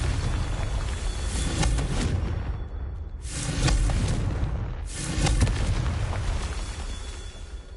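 A Confringo blasting spell explosion in Hogwarts Legacy: several heavy booming bursts with rumbling, crackling tails, loud and close, repeating in waves over a low background roar.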